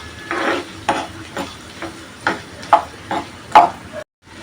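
Onion frying in oil for a banana flower vegetable dish, a series of scraping stirs over soft sizzling, roughly eight strokes at an uneven rhythm, close and clear with no talk.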